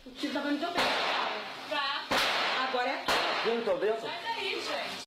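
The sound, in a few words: gunshots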